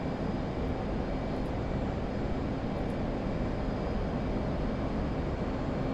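F/A-18C Hornet jet in DCS flight simulation, climbing just after takeoff with gear retracting: a steady, dense engine roar that holds at constant loudness throughout, with no voices.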